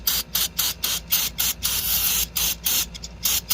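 Throttle body cleaner is sprayed from an aerosol can onto a rag in quick repeated bursts, each a sharp close hiss separated by short pauses, with no talk.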